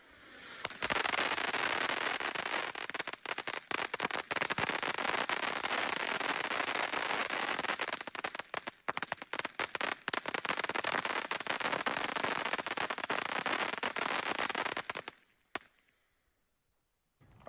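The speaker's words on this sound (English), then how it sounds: "That's got to be one of the loudest whistles I've heard in a while." A loud whistling firework gives a long, harsh, continuous shriek with crackling bursts for about fifteen seconds, close and intense, then cuts off into near silence.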